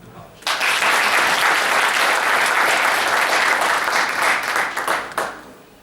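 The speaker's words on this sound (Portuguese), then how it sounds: "Mais uma salva de palmas" Applause from an audience at a law students' mock trial starts abruptly and holds as a loud, dense wash of clapping for about five seconds before fading with a few final claps.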